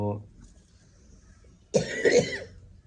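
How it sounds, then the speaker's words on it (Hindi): A short cough and throat-clearing bursts out close by, a couple of harsh rasping hacks after a quiet stretch, with a brief voice at the start. "इसकी खांसी वगैरह जो है वो काफ़ी ज़्यादा है"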